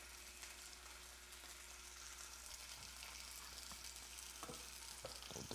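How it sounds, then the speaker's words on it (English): Reheated chicken sizzles in a frying pan, a steady, faint crackling hiss with a few sharper pops toward the end and no talking. "Can you just hear the sizzling?"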